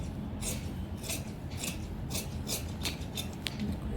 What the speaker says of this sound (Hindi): ये मुड़ा हुआ पोर्शन है ना, इसको कट करके हटा दूँगी मैं